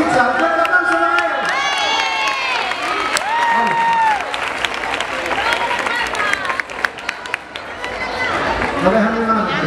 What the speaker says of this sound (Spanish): ¡Un fuerte aplauso a él!